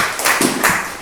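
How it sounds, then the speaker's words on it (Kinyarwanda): A small group in a classroom-style session claps a few quick, close, uneven beats in a short burst. "Mwese mwakikomera amashyi."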